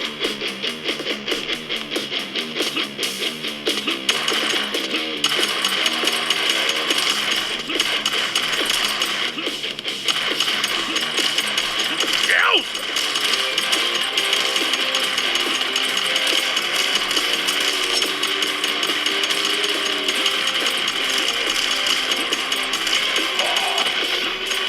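An Asus ROG Ally handheld gaming PC running at 60 fps with its cooling fan loud, giving a steady whir under busy game sounds of tapping, clanks and mechanical effects, with no talking.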